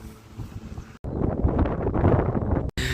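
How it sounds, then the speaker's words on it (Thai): Strong cold wind on a mountain at Phu Thap Boek buffets the microphone in a loud, roaring, continuous rush, broken by a brief cut and a sudden gust. "มันเย็นลมแรงมากเลย"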